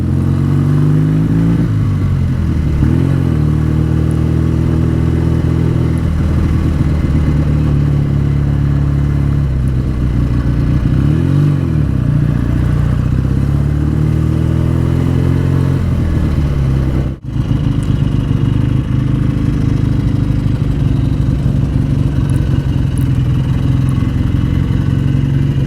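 A BSA Super Rocket motorcycle engine thrums on a winter ride, its loud, close note rising and falling as the rider works through the gears, with a brief dropout partway through.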